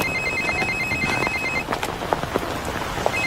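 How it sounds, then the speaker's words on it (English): A telephone rings with a bright, pulsing electronic trill lasting over a second, then starts again briefly, over a steady background hiss. "It's gonna ring in a few seconds. You might want to take the call outside."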